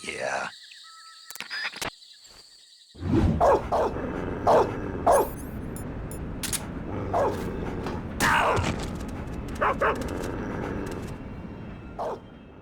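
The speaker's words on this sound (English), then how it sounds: "Don't you dare think about trying to capture an attack dog." Attack dog in the video game Metal Gear Solid Delta barking in several sharp, repeated bursts amid game noise and mechanical creaks, with people talking over parts of it.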